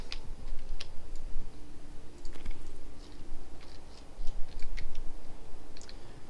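Keys clatter on a computer keyboard in quick irregular bursts, close and fairly quiet, with short pauses between flurries of clicks and no talk.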